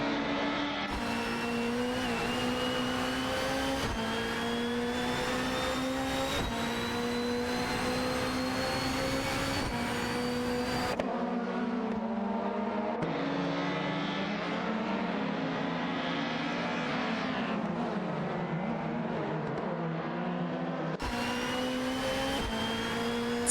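Ford Mondeo 98 race cars racing side by side in a video game, high engine whines rising and shifting pitch through gear changes, a loud sustained drone with no talk.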